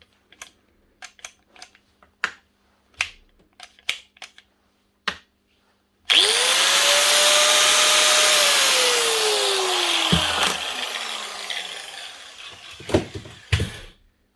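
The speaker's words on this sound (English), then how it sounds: "So I'm just going to use a grinder here, just any machine will do" An electric grinder plugged into the socket of a Bosch GAS 1200L vacuum spins up with a rising whine and runs loud and steady for several seconds, then winds down, framed by scattered clicks and taps before and after.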